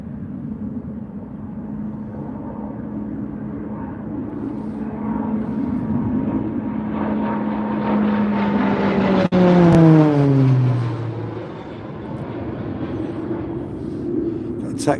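A Royal Air Force Texan propeller aircraft passes overhead, its engine drone swelling and then dropping sharply in pitch as it goes by behind trees, loud at the peak and fading afterwards.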